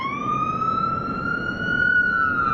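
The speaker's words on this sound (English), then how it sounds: "a few sirens ring out in the background" Several emergency sirens wail steadily in the background during a Nepal versus Scotland cricket match, a continuous rising and falling tone held throughout at moderate loudness over low crowd and ambient rumble.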